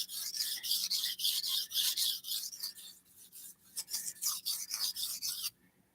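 Thin hard-steel Japanese style knife being sharpened on a stone, a rapid rhythmic series of raspy scraping strokes, about a dozen or more back-and-forth passes, close and clear with no talk, stopping abruptly near the end.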